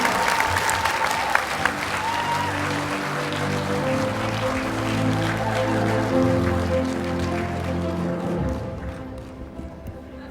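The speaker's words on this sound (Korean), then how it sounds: "먼저 정청래 더불어민주당 대표님의 축사를 듣는 시간을 갖도록 하겠습니다. 따뜻한 박수로 맞이해 주시기 바라겠습니다" Warm applause from a seated audience at a Korean party gathering greeting Democratic Party leader Jeong Cheong-rae, a dense, even wash of clapping that swells and then tapers off, with some background murmur.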